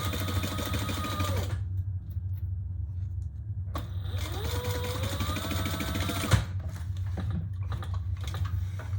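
A sewing machine top stitches fabric in two quick runs, each with a rising whine of the motor and a fast mechanical chatter, separated by short pauses.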